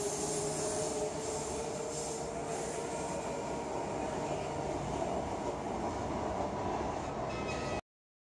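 A train runs through Claisebrook Station in a steady, close rumble, with a thin wheel squeal held throughout and no voices.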